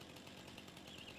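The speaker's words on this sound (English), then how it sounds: "The chainsaw does allow you to chop it down" A video-game chainsaw chewing into a tree: a faint, buzzing, rapidly pulsing engine whine that holds steady through a short stretch, with no talk over it.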